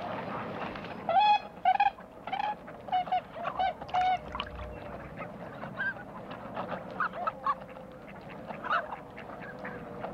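Ross's geese honking repeatedly in a busy flock during mating season, a dense run of nasal calls that crowd the first half, then thin into scattered honks, close and clear over a low steady background.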